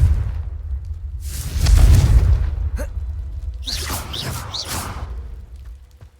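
Confringo fire spell in the game Hogwarts Legacy: a heavy whooshing boom swells and rumbles low, followed by crackling bursts and a softer fading whoosh, loud and close.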